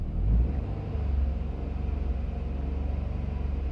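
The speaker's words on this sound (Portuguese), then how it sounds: "Agora vou soltar o acelerador. RPM baixando." A car engine hums low and steady as the accelerator is released, its rumble settling and softening slightly over a few seconds, close and moderately quiet.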